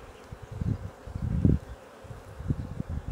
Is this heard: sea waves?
no